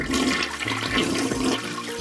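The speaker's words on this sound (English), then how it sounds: "he threw the dirty toilet paper into the toilet and gave it a flush" A toilet flushes with a loud rushing, gurgling surge of water that swirls close by for a couple of seconds, with no one talking.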